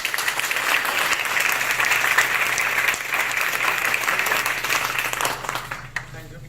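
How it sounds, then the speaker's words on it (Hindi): Dense, sustained applause from a seated audience at a corporate gathering, a broad even wash of clapping that holds steady for several seconds before thinning out near the end. "एक बार जोरदार तालियां सारे लोग"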